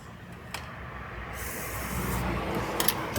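WD-40 sprayed onto a Mercedes parking brake, a close hiss that builds into a steady spray with a few short bursts.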